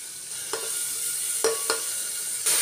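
Carrots, potatoes, onion, garlic and ginger are being stirred in a sizzling pan, giving a steady frying hiss broken by three or four soft scrapes of the spoon, close by with no voices.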